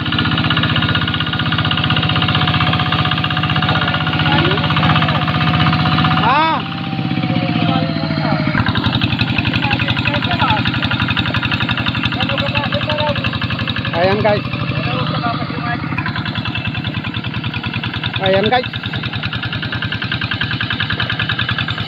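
Two tractor engines chug and rumble steadily in a farm field throughout, a loud mechanical drone with occasional revving swells, while voices talk and shout over it.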